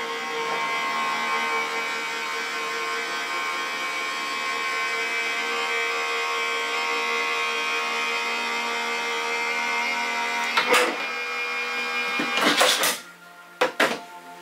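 An electric die-cutting machine runs a pass with a steady, even motorised whine lasting several seconds, then a few sharp clunks and clicks as it finishes, close by with no talking.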